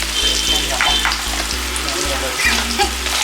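Chicken frying in a pan, giving a loud, continuous close-up sizzle with bubbling crackle and occasional stirring, while a low rhythmic hum sits underneath throughout.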